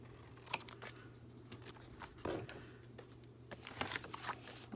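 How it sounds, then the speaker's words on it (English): Scissors cut the frame off a photo for a journal page: a few faint, close snips and paper rustles come at scattered moments over a low steady hum. "Cut the frame off of this."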